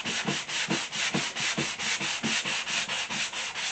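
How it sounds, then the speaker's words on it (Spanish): Hand sanding of varnished wood along the grain ahead of painting, a steady back-and-forth scratchy rasp in quick regular strokes, close and continuous with no talking. "Lo que sí hacemos es lijar en el sentido de la veta."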